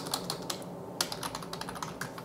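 Fast, irregular clicking of computer keyboard keys as someone types into an online percentage calculator, close and fairly quiet, with a brief pause near the one-second mark.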